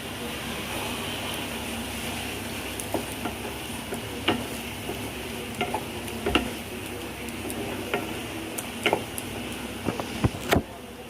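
Fennel seeds, chili powder and crushed cardamom stirred into pineapple chutney in a pan, a steady soft sizzle with scattered scraping clicks of the spoon, continuous and close.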